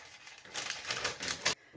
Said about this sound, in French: Je mets un papier sulfurisé et je le coupe.